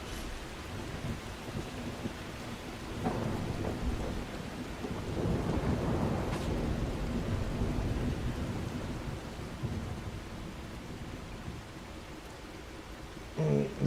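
Foggy, rainy weather in The Last Caretaker game, with steady rain and rolling thunder swelling loud in the middle before easing, no voices over it.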